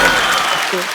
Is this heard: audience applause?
yes